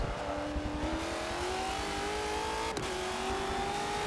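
A Ford race car in Forza 7 (NASCAR or V8 Supercar) revs hard from the cockpit with its wheels spinning. The engine pitch climbs steadily, drops sharply at a gear change, then rises again, loud and continuous.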